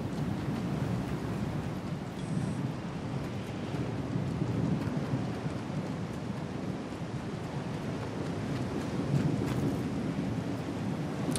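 Steady storm wind roaring in Star Citizen, a continuous broad rushing gust with no pauses, loud and even throughout, no voices.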